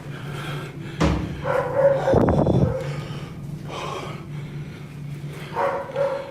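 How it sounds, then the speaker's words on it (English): A dog in a house gives a single sharp bark followed by huffing, snorting breaths and a gasp-like sound, fairly close, with faint background noise and no speech. "why are we not acknowledging the dog?"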